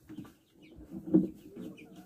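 Chickens cluck softly in a backyard coop, a few scattered low clucks and murmurs rising and falling at close range in a quiet setting.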